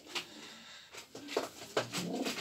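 Polish postal exhibition pigeons cooing in a loft, a few soft low coos rising and falling over a second or two, close by with faint background noise and no talk.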